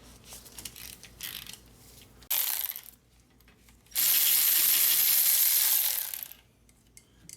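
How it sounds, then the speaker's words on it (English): A ratchet undoing 14mm brake caliper bolts on a Toyota Highlander, with faint metallic clicking, then a loud mechanical burst and a sustained whirring stretch of about two seconds, with quieter intervals between. "I'm gonna undo these two 14mm bolts for the brake caliper."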